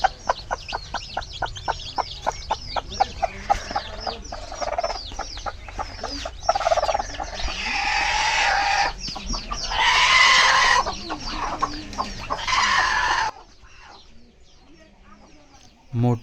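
Brooding village hens sitting on eggs cluck in a quick run of short, close pulses, then give longer, louder calls, with voices talking faintly in the background.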